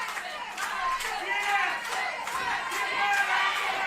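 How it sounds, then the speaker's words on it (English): A live fight event crowd roars and cheers for a fighter, a dense, sustained wall of voices with swelling surges throughout, overlaid by a commentator's talk. "They're cheering for him, but that might not get him there in the face."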